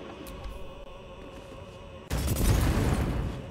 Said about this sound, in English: And throw a alchemist fire